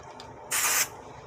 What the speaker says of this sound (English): Let's spray deodorant